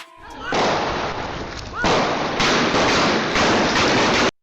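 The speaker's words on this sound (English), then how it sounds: "While they're leaving, gunshots can be heard going off in the background." Dense, loud crackling bursts of rapid popping fill the clip, gunshots going off in the distance, sustained and overlapping until stopping abruptly.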